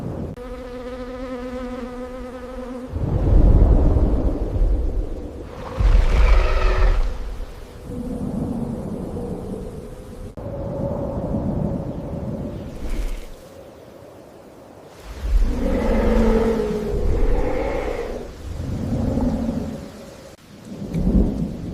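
Rain begins to fall after a long drought, a soft steady patter mixed with rumbling thunder and the buzz of insects, rising and falling in loudness.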